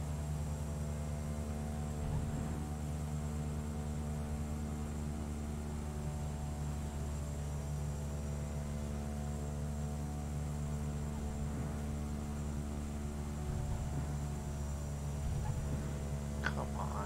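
Steady propeller drone and engine hum from inside a Cessna 208 single-turboprop airplane flying from Bethel to Fairbanks, Alaska, loud and constant throughout with strong low harmonic tones and no talk.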